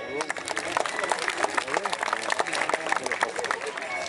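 An audience at a medieval festival at Château de Montcornet in the Ardennes claps steadily after a clean sword cut, a dense outdoor patter of many hands mixed with crowd chatter.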